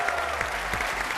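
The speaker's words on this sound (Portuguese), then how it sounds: "Um aplauso para a nossa Ana." Brief burst of TV studio audience applause on a Portuguese game show, a dense even wash of clapping at moderate loudness.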